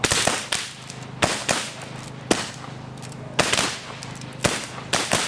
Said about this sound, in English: would you like to demonstrate how fast you can fire with the revolvers?